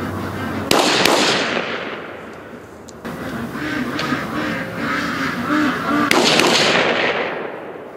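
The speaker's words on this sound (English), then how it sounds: "So the 4 shots I just set off" Shotgun blasts ring out at a lake where ducks are kept, two sharp loud reports echoing broadly across open water and trailing off slowly, with no talking.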